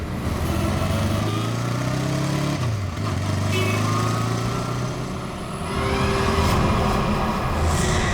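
Motorcycle engine pulling away along a road near the Khandala–Pune route, a steady droning rumble with a falling pitch sweep partway through, loud and continuous throughout.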